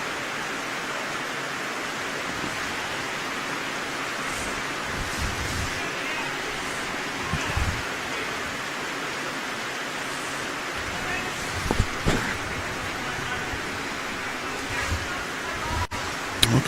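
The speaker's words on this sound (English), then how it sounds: "Quite steady rain coming down here at Cabramatta." Steady rain falls at an outdoor lawn bowls venue in Cabramatta, a continuous even hiss of drops throughout, with occasional faint knocks and distant voices beneath it.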